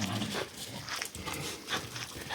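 A dog nearby makes rough, breathy huffing sounds in short, uneven bursts against a quiet outdoor background.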